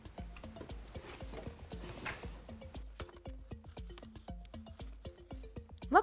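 Horse hooves clip-clop in a steady trotting rhythm as a sound effect on a quiz show, crisp and fairly close, with a faint bright flourish at the very end.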